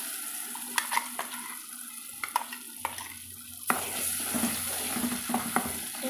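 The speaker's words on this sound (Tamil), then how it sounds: "அரைச்சி வச்சுக்கிற சட்னி கலவை வந்து இதில் சேர்த்து வதக்கலாங்க" Ground chutney paste sautés in a pan with curry leaves and red chili, giving soft sizzling with occasional scraping stirs and clinks of a spoon, fairly quiet and close.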